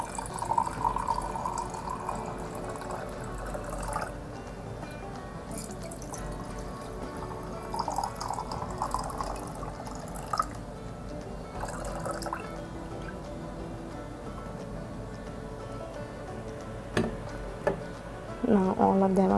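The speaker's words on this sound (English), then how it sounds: "And this way I'm going to pour water in all the jars." Water is poured into glass jars for money plant cuttings, a run of trickling, dripping splashes as each jar fills, close by and moderately loud.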